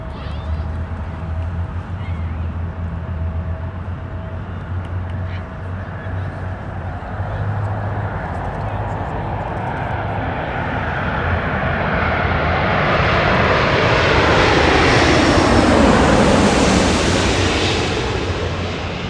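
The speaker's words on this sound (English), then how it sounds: "Now it's time for the Lufthansa Airbus A350-900 from Munich" A Lufthansa Airbus A350-900 arriving from Munich lands at Los Angeles International Airport, its jet roar swelling from a distant rumble to a loud, close, broad rush and then starting to fade, with a voice talking underneath.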